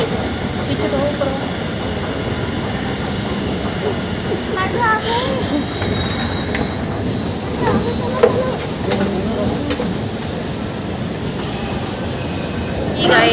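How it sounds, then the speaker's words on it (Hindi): A metro train rumbles along with a steady roar and faint wheel squeal, while voices murmur indistinctly beneath the constant noise of the carriage. "सो अभी हम हैं मेट्रो में"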